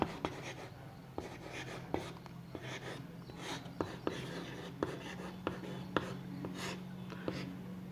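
Chalk or marker strokes on a board during a physics lecture, soft scratches and light taps recurring at an uneven pace over a steady background hum, with quiet speech mixed in.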